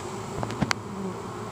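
Honey bees buzz close by, a soft continuous drone with a couple of brief louder passes as insects fly near.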